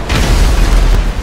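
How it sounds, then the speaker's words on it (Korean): A loud bomb explosion in GTA 5, a heavy sustained boom with deep rumble filling the whole moment, close and alone. "내가 터뜨린 폭탄"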